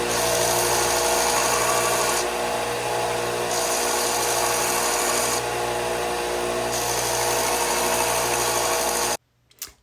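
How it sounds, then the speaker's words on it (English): A power tool cuts wooden spindles to length for rustic Christmas ornaments with a loud, steady whine that rises and falls slightly across the cut, then stops abruptly near the end. "I'm out in the shop cutting my spindles the length that I want them"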